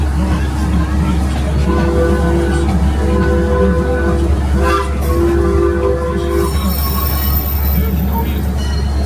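The Six Flags Over Georgia park train, with its locomotive the Texas, rumbles along in a loud, steady roar of wheels and running gear. Faint tonal sounds and a voice rise now and then above the din.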